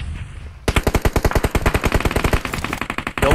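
Sustained automatic gunfire in PUBG Mobile, a loud, close stream of around twenty-five evenly spaced rapid shots after a brief quiet start, alone without speech.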